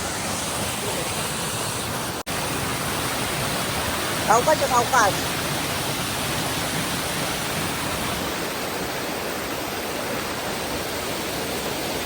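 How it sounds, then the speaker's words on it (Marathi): Constant broadband rushing of a small waterfall in Indavati village, Lanja, Ratnagiri, close and loud, with a brief voice speaking midway over it. "काही यात साईडला बघा धबधबा येत आहे मस्त की असा सुंदर असा धबधबा आहे"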